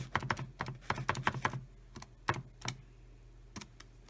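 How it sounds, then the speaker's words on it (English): Quick series of soft plastic key taps on a calculator, a burst of about eight presses followed by a few scattered single presses, close and fairly quiet. "And I type this in the calculator."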